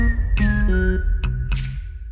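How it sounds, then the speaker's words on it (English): Someone whistles an annoying tune in a Shrek 5 animated teaser, a clear melodic whistle that holds a steady tone and shifts pitch, with brief percussive hits and a dense low rumble underneath. "Who the hell is doing that annoying ass whistling?"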